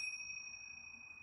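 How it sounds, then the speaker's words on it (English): Tingsha bells, a pair of small cymbals, ring out in a sustained, pure tone that slowly fades, heard alone and close in a quiet room. "I'm using my fabulous tincture bells."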